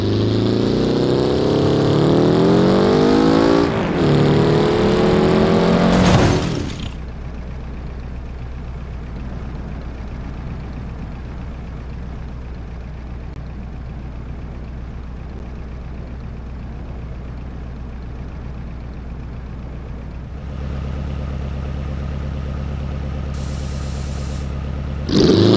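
Car in the BeamNG.drive video game revs hard at first, then settles to a long, quieter engine drone before roaring up again at the end; no speech.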